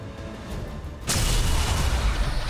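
A plasma rifle shot in XCOM 2 cuts through a quiet hum with a sudden loud, sustained energy blast that rumbles on heavily after the initial crack.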